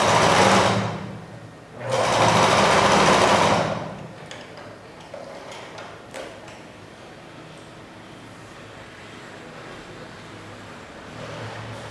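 A sewing machine stitching the seam of a blouse, two loud whirring bursts near the start, then quieter faint mechanical clicks and handling noise afterward, close by with no talk.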